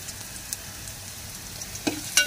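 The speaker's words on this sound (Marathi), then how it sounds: "चांगलं फ्राय करायचं." Finely chopped ginger frying in a pan for chutney, with a low steady sizzle and a few light spoon stirs and clinks near the end, close and quiet.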